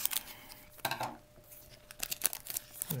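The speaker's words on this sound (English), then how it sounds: "Use scissors." Scissors snip and crinkle through the plastic packaging of a Pokémon TCG Sun & Moon Guardians Rising Elite Trainer box, giving a few close, sharp cuts and rustles.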